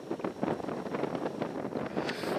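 Wind gusts buffet the microphone at an outdoor shooting range on a cold day, a steady low rumbling roar with no voices.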